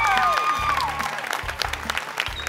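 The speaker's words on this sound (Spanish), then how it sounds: "Fuerte el aplauso para Osman." Studio audience applause on a Panamanian televised singing competition final, steady dense clapping with a sustained musical tone and broadband hiss over it, fairly loud and close.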